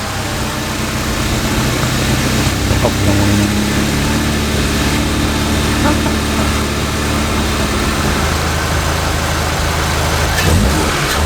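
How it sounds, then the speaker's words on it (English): A VW Mk7 GTI with a GFB DV+ diverter valve fitted rumbles loudly and steadily up close, its engine revving and settling in a sustained, dense roar with no talk over it. "so just now revving it for a second, not placebo, but you can definitely tell the turbo is behaving"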